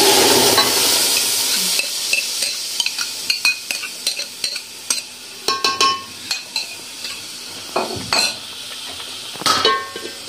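Ground spinach and fenugreek being stirred in a large pot, a sizzling hiss fading early, then a series of irregular clinks and scrapes of a spoon against metal, some louder knocks toward the end.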